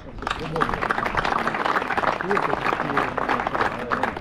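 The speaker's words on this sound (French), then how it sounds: "je souhaite qu'on les applaudisse bien fort" Festival crowd at Prom'Aude 2025 in Lézignan-Corbières applauds, with dense clapping and cheering spread evenly through the moment, while voices mingle in the crowd.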